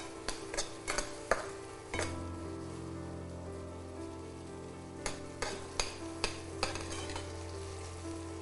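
Paneer frying in oil in a pan, a soft background sizzle broken by sharp clicking taps of a utensil stirring and turning the pieces, with no talking.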